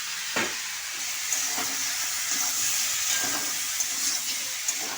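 Pumpkin and potato frying in a pan alongside already-fried prawns, a steady bright sizzle with occasional soft stirring clinks and scrapes throughout.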